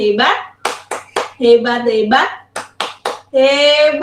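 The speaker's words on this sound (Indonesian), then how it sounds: "Yuk kasih tepuk hebat untuk Mahardika." Children in an Indonesian classroom do a rhythmic praise clap for a pupil, with short bursts of hand claps between young voices chanting and talking, close and fairly loud.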